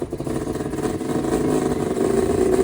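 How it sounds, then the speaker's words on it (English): Close by, a car engine runs and revs with low, rough rumbling as the car is driven up onto wood blocks, rising slightly in loudness with a bit of clatter. "I'm gonna drive up on some wood blocks because I really don't want to take the bumper off"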